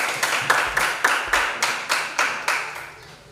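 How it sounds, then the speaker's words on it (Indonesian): Students applauding in a classroom, a group clapping in unison in a steady rhythm of about eight loud claps that ends by fading out. "tepuk tangan untuk kita"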